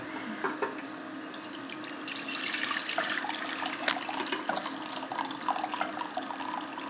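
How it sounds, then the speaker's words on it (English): Water pours steadily out of a pot of boiled potatoes being drained at a kitchen sink, a continuous splashing rush with a few sharper spatters, moderately close. "let's drain the mashed potatoes"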